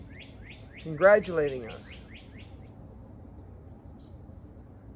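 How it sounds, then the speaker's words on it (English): A cardinal sings outdoors in a quick series of bright, repeated chirping whistles, moderately close. A person speaks briefly over the start of the song. "What do you think it is? Cardinal? That's what I think it is. Those red birds."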